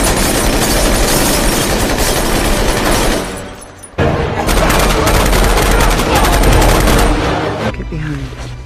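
Rapid M16 rifle gunfire crackles through a loud action movie scene, sustained bursts broken by a brief lull near the midpoint, with shouted voices mixed in.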